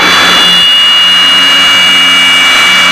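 The twin engines of a Piper Seneca aircraft drone loudly and steadily inside the cockpit, a constant, dense roar with no pauses.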